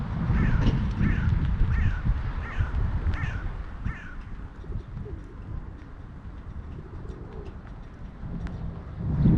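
Crows caw in a short repeated series while pigeons coo nearby in the rain, the calls fairly close over a steady background murmur of outdoor noise.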